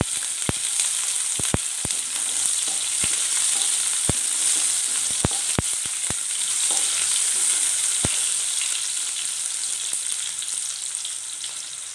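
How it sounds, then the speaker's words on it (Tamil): Whole small onions and chopped onions sizzle steadily in a pan of hot oil for a gravy, with a scattering of sharp spoon clicks against the pan throughout. "வெங்காயம் நல்லா வதங்கி வந்துடுதுங்க"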